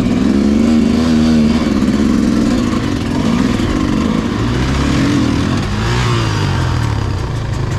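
A motorcycle engine held at high revs as a new rider gives it gas, loud and close with a continuous droning roar that rises and dips slightly, no voices over it.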